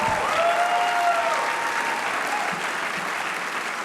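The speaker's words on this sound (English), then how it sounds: "Give him a big round of applause." Steady, full applause from a large audience at an HRC dinner in Los Angeles, a dense wash of clapping that holds evenly throughout with a faint voice cutting through early on.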